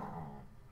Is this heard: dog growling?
yes